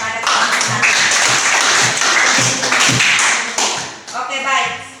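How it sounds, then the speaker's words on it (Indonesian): A classroom group of students clapping for group one, dense rapid hand claps filling the room for several seconds, close and loud, fading near the end with a voice briefly audible. "mari kita beri aplaus kepada kelompok satu."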